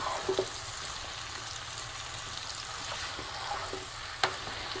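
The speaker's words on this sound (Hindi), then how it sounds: "एक बार अच्छी तरह से इनको मिक्स कर दें ताकि तमाम मसाले जो हैं वो ऊपर से नीचे हो जाएं" Spiced eggplant and potato curry stirred in a pan over a faint continuous sizzle, with a few soft scrapes and one sharp clink near the end, quiet and close.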